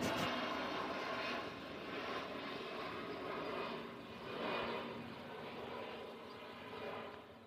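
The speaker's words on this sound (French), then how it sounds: "il y a un avion qui passe" An airplane passes overhead with a broad, steady roar that swells and recedes gently, sustained for several seconds with no voices over it.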